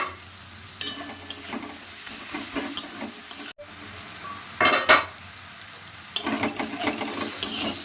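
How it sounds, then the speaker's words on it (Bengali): Sliced onions frying in a pan with a little salt, a continuous close sizzle broken by several bursts of scraping as a spatula stirs them, with a brief quiet gap midway. "এক মিনিট পর পেঁয়াজটা নেড়ে দিলাম।"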